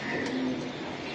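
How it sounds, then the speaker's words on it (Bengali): A Palla line pigeon at a pigeon farm gives a short, close cooing note, a steady low hum held for a moment over constant background noise. "এটা পাল্লা লাইনের কবুতর"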